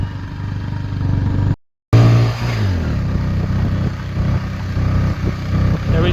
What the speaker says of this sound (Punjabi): ਮੋਟਰਸਾਈਕਲ ਵੀ ਬਸ ਪਹਿਲੇ ਗੇਅਰ ਮੈਂ ਚੜ ਰਹੇ ਆ